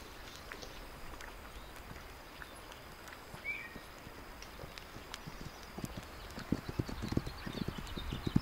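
Horse hooves clip-clop steadily while riding across open ground in a video game, a soft continuous plodding that grows louder and more distinct toward the end, with faint ambient wind and birds behind it.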